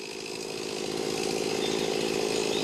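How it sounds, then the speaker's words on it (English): A chainsaw cuts through wood as woodcutters work, giving a loud, steady, close buzzing drone that holds without a break and swells slightly in strength. "they were both busy cutting wood with a chainsaw"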